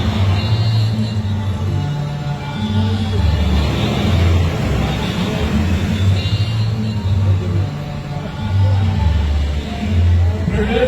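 Gendarmerie command vehicle rolling past during an independence-month closing parade, a steady low engine rumble close by and continuous throughout, with crowd and street noise behind it.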